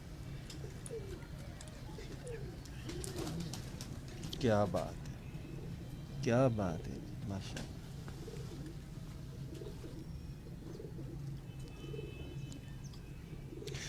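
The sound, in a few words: pigeons cooing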